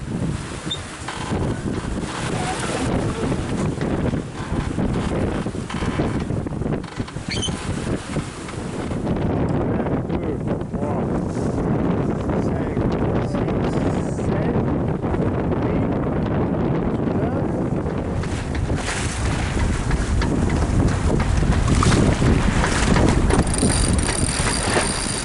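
Strong Force 7 wind roars across a sailboat at sea, buffeting loudly and continuously against the microphone with rushing, rumbling gusts and no clear pauses.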